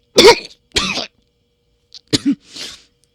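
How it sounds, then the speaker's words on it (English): Several harsh, close coughs in quick bursts, with a short pause, then a couple more coughs and a breathy throat clear. "the hero attempted to contain his involuntary coughing"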